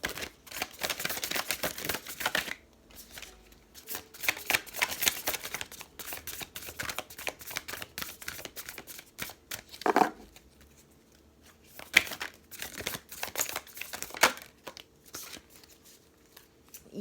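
A deck of oracle cards being shuffled by hand during a tarot-style reading, rapid papery riffling and flicking in bursts across the whole stretch, with brief pauses and a few sharper taps, close and fairly quiet, no talking.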